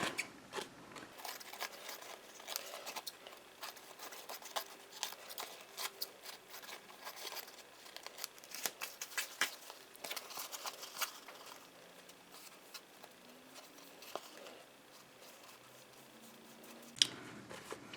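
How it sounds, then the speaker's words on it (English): Scissors snip along dried paper coated in matte medium while a journal is trimmed, giving quiet, scattered crisp cuts and rustles close by, with short pauses between strokes. "This is dry, so I'm going to trim it off."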